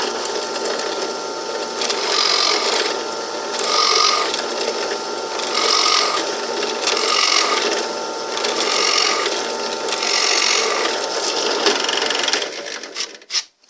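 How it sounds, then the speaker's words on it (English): Drill press boring holes in a cedar fiddle plate, a whirring mechanical motor with rhythmic rising and easing bursts as each hole is cut, steady and close, ending with a brief clatter. "I set my drill on my drill press to stop at a certain gap, and then I drill holes in the plate"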